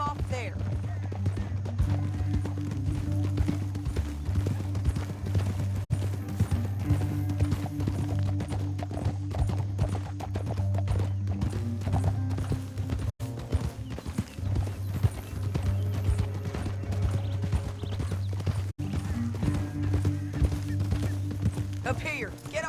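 Rapid rhythmic hoofbeats of a galloping horse in the game Red Dead Redemption 2 pound continuously under a low music drone, with occasional distant talk.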